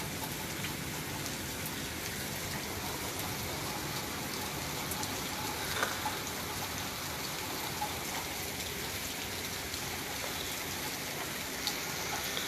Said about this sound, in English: While it's raining like that